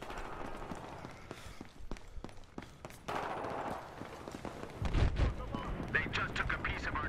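Bursts of AK-47 fire in the video game Battlefield Hardline come in short, irregular volleys, with players' voices talking over the shooting.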